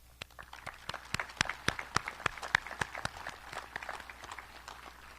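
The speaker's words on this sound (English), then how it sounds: "Let's give a round of applause for the ICEMA board members who are with us today." Sparse applause at an outdoor-style memorial ceremony, where a modest group claps in distinct, sharp individual strikes over a quiet background. The claps build briefly and then thin out.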